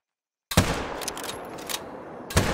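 A rifle shot rings out in the hunting video game theHunter: Call of the Wild on the Emerald Coast map, a sharp loud crack followed by a long decaying echo, then a second sharp report near the end.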